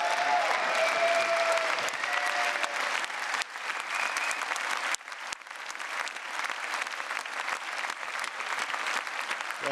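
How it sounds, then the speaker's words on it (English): Sustained, dense applause from a large crowd fills the arena for the winner of a squash match at the 2012/13 World Tour Finals, a broad, even roar of clapping with brief dips and nearly no voices. "Please put your hands together again for our winner, Shabana."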